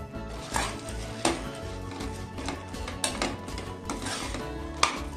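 Roasted peanuts tumble into hot jaggery syrup for peanut burfi and get stirred, giving a steady run of close, sharp clacks and scrapes against the pan with a few louder knocks.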